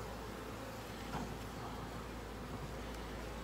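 Honey bees hum in a low, continuous drone during a midsummer top bar hive inspection with a little smoke, a steady, faint swarm buzz with no voices.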